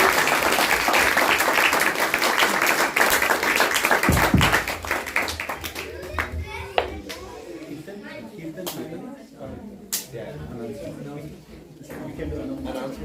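Audience clapping at a spiritual talk on Bharat Maharaj, loud and dense for about four seconds, then fading into scattered claps and murmuring voices.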